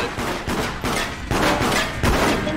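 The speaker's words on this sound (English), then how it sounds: "I think shooting the gun will open it first" Gunfire in the multiplayer horror video game Deceit, a few loud bursts of shots in quick succession across a couple of seconds, close and harsh with no talk.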